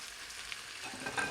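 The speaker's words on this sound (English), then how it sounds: "we are going to add back our roast. Into the pot it goes." Beef roast for sauerbraten lowered back into a hot pot, giving a close, bright sizzle and crackle that rises slightly toward the end, with no talking.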